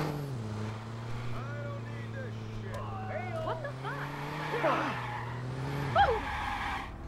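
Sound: car driving and skidding in video game Watch Dogs

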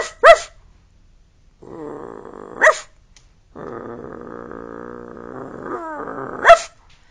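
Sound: person imitating dog barking

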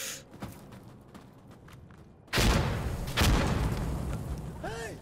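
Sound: grenade explosion in the video game Insurgency Sandstorm

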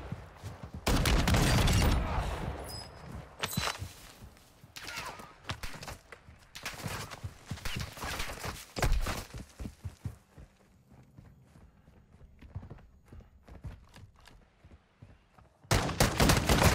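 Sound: shotgun gunfire in video game Warzone 2

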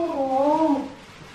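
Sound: cat meowing

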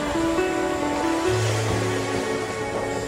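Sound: ocean waves breaking on the beach at Pantai Kasap

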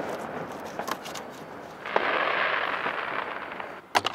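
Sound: fireworks going off at night

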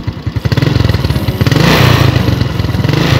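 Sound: Suzuki Smash 110cc motorcycle engine revving

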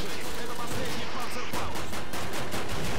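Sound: gunfire in the video game Call of Duty

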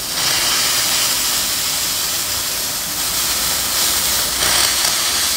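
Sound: steam wand of Gtech ST-530ED coffee machine at third level

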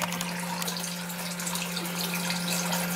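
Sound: water running in tiny house shower

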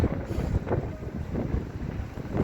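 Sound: wind

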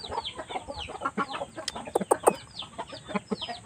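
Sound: shamo hen clucking

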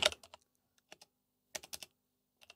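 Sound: typing plugin name on computer keyboard

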